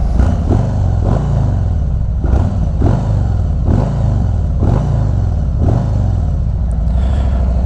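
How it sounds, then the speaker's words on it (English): A Harley-Davidson Touring motorcycle fitted with Vance and Hines Eliminator 400 mufflers is revved repeatedly while standing, about six loud, close throttle blips rising and dropping in a regular rhythm over a deep idle. "see what kind of RPM I'm getting up to in these revs."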